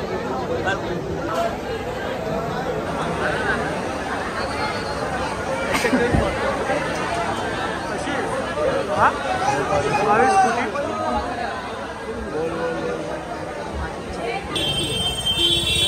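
Dense crowd chatter and hubbub at the Ganpati festival in Mumbai, a steady wash of many voices close around, with some higher electronic beeping tones near the end.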